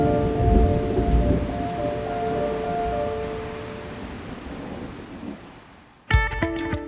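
Steady heavy rain hisses close by on a Montana wheat farm during harvest, with a low rumble beneath it, then cuts off abruptly near the end.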